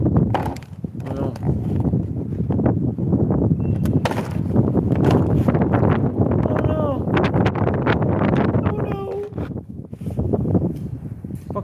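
Strong outdoor wind buffets the microphone in loud, continuous rumbling gusts, while a person speaks briefly over the roar.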